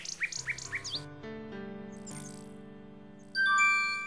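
A nightingale in the game King's Quest VI lets out a quick run of bright chirps, followed by a soft chiming, tinkling melody and a final sustained glittering tone.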